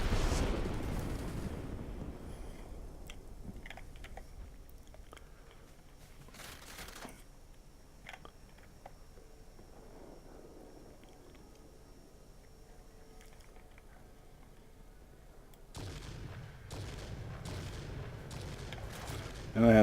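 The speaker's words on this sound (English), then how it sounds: "I have a bomb, might as well use it." A bomb dropped from a ground-attack plane in the video game World of Warplanes bursts in a loud explosion that rumbles away over several seconds, followed by sparse crackles, engine drone and a second heavy blast near the end.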